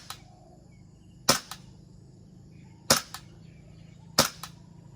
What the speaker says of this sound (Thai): เนี่ยผมยิง ต่อ ยิงต่อนี่โดนทุกเม็ดเลย